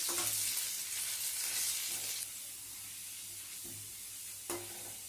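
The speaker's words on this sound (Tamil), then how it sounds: "இப்போ பாருங்கள் இஞ்சி கொஞ்சம் லேசாக வதங்கி கொஞ்சம் சின்னதாகிடுச்சு" Chopped ginger sautés in ghee with a bright, continuous sizzle that drops noticeably partway through, with occasional soft stirring knocks afterward.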